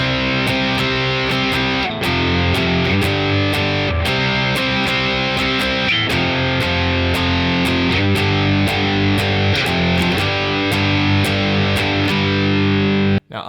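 Distorted electric guitar strums power chords in a steady, driving rhythm for a punk chorus, loud and continuous with no talking.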